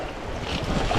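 Bike riding through water on a trail in the Quaite Valley near Canmore, Alberta: a brief, close wash of splashing and rushing noise, steady and fairly loud, with wind buffeting the microphone and no talking.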